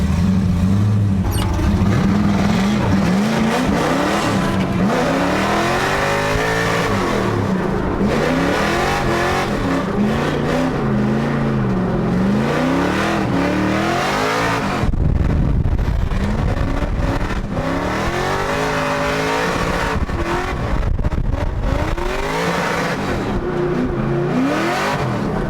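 An LS-swapped Mazda Miata runs a solo lap, its V8 revving hard through repeated rises and drops in pitch, with tires squealing loudly in stretches, continuous and close throughout.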